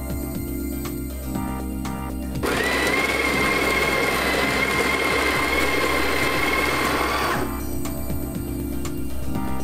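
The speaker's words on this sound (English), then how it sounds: "We're just going to grind some coffee now." A coffee grinder grinds coffee for espresso in one loud, dense whirring burst of about five seconds. It starts and stops abruptly over a low background hum.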